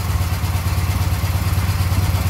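A fully rebuilt Soviet K750 motorcycle engine runs steadily up close, a loud, even low-pitched throb with a rapid rhythmic pulse and light mechanical clatter, and no voices.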